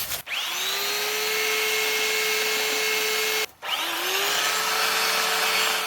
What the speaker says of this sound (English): why am I out here at the edge of the woods sanding my wooden frame?